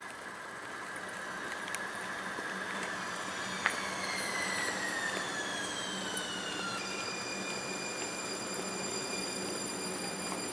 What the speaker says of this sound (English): That's a train that came in.